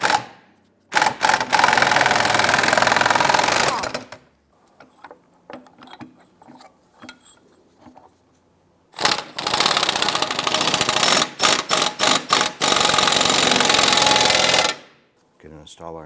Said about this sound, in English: I'm going to go ahead and press our ball joint out of the knuckle.